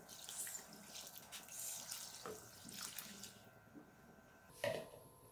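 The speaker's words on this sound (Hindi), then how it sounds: "अब इसके अंदर हम 2 किलो चावल के हिसाब से 2 लीटर पानी शामिल कर रहे हैं।" Water is poured into a large pot of chicken pulao with two kilos of rice, giving splashy, trickling bursts and drips at moderate distance, with gaps between pours and no speech.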